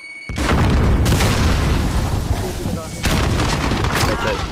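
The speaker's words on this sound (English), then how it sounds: "Throwing the nade." A thrown grenade detonates in a shooter video game, a loud close boom followed by a sustained roaring rumble and a second heavy blast about three seconds later, with gunfire and chatter amid the din.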